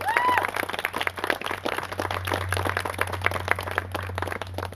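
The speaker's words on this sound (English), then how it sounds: "Let's give them a round of applause." Applause from an audience at the opening of a Pride Week event honouring Boys and Girls Club staff: dense, steady clapping with some scattered voices, held at an even level over a low constant hum for the whole stretch.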